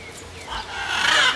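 A rooster crows outdoors on hotel grounds in Pattaya, Thailand, a drawn-out rising call that swells toward the end amid faint background noise.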